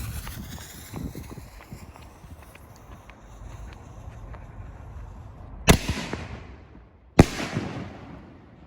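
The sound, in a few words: fireworks shells exploding in a parking lot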